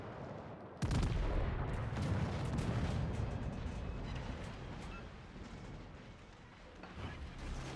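Warship guns fire in World of Warships: Legends: a heavy boom opens, then a long rumbling roar with crackling bursts slowly fades, and a second swell rises near the end.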